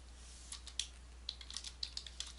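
Rapid clicking of computer keyboard keys as C++ code is typed, a quick irregular run of light taps, close and fairly quiet, with no talking.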